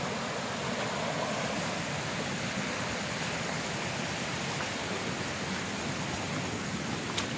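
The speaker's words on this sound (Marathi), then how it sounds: "आवाज यायला लागला आहे पर्यायाचा पाण्याचा." A stream flows close by near Rajapur's Katalkada on a dark night, its steady broadband rush of water continuing unbroken and fairly loud throughout, with no voices.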